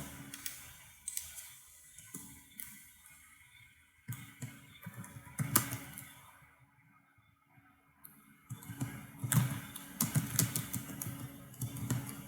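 Commands typed on a computer keyboard while installing packages on an AWS EC2 instance: bursts of close, crisp key clicks with pauses between runs, fairly quiet overall.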